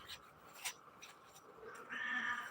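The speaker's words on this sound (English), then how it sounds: "That's what my cat says." A house cat meows, a faint, thin cry near the end rising over some low rustling and clicks; fairly quiet overall.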